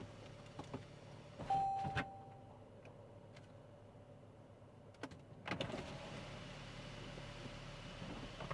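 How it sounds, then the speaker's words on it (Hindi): Mercedes C-Class Cabriolet power windows lowering: a steady electric motor whine, with clicks and a thud as each window drops, quiet inside the car. "इस एक बटन को प्रेस करिए और सारी विंडोज़ ड्रॉप हो जाएंगी।"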